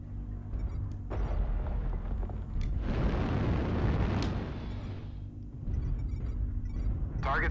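Airstrike explosions in the MechWarrior Online mech combat game: heavy rumbling blasts roll in near and loud, swelling into a long deep booming eruption midway, then easing off before another rumble.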